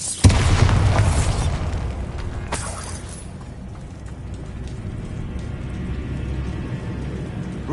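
A single loud blast from the Bombarda blasting spell in Hogwarts Legacy erupts at the start, then crackling debris and a rain-like patter fade into a low rumble.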